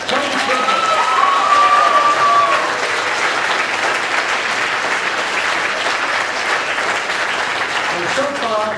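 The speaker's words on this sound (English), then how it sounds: "Big round of applause." Theatre audience applauding after a musical comedy performance, a dense, sustained roar of clapping with some cheering, loud and continuous throughout, with a voice briefly audible over it near the start.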